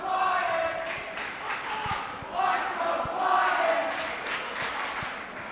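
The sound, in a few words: basketball crowd cheering in the gym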